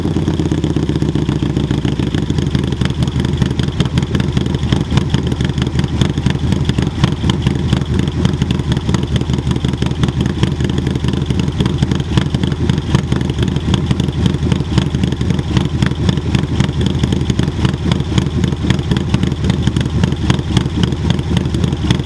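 A Harley-Davidson Low Rider ST motorcycle fitted with an SP Concept big bore exhaust rumbles loud and close, holding a steady, throbbing idle with a deep pulsing beat for over twenty seconds, with no talking.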